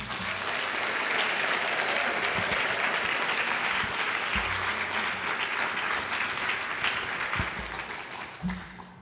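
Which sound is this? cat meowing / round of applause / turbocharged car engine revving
round of applause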